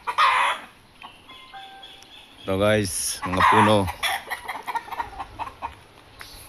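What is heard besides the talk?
gamefowl roosters clucking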